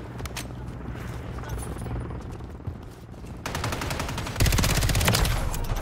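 Gunfire in the video game Call of Duty Warzone, with rapid automatic bursts of close shots over a busy background, building into a louder, denser stream of fire near the end.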